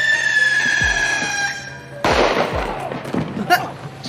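Fireworks strapped to rocket skates go off in a stunt, a sudden loud burst of crackling and sputtering that lasts a couple of seconds, heard over an earlier steady tone with low thuds.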